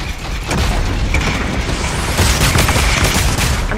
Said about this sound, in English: Why are you shooting RPGs?